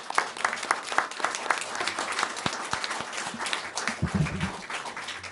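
A crowd at a community candidates night breaks into sustained applause, dense clapping carrying steadily from start to finish with a slight swell near the end.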